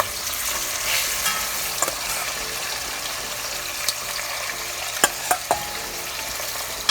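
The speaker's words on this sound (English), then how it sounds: "Ooh, you hear that sizzle? That's when you know your oil's ready." Hot oil for jambalaya sizzles and crackles steadily in a pot, with a few sharp pops and clinks standing out near the end.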